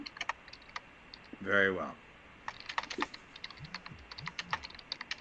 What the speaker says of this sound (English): Keep typing, Commodore.